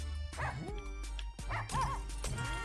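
A dog barks in the video game Russian Subway Dogs, giving several short yips and whimpering barks in quick succession over a droning game background, with a person talking at the same time.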